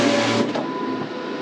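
An HP 335 Latex printer hums and whirs as it reads registration marks while printing stickers, a steady close mechanical drone with a faint tonal whine and no voices.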